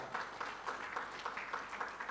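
A congregation applauds during a Sunday afternoon church service, a steady patter of many hands clapping at moderate volume for a couple of seconds.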